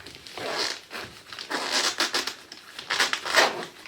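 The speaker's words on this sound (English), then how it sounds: "it zips up really nice" A zipper on a small hygiene kit pouch from a bug-out bag is run shut in several quick, close rasping pulls, each a short burst of scratchy fabric-and-teeth noise with brief pauses between.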